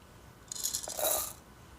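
About ten grams of coffee beans poured into the bellow hopper of a DF64 espresso grinder, a brief soft rattling patter of beans lasting under a second, faint and close.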